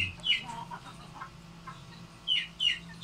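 A mother hen clucks and chirps in short bursts at a backyard farm where she is raising chicks, with a few close, bright calls separated by quiet gaps.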